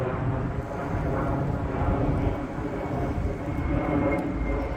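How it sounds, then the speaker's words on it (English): An airplane passes overhead outdoors on a windy day, heard as a steady, broad low rumble that holds for several seconds, mixed with gusting wind noise. "Oh my god, is that a plane?"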